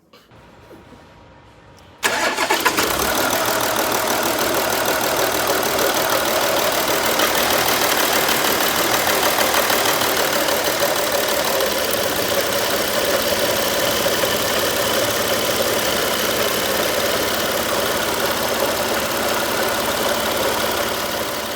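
An Audi Q7 diesel engine running on three cylinders from a shorted injector, idling roughly with an uneven, lumpy beat, loud and close, starting abruptly after a brief quiet moment and continuing steadily without talk.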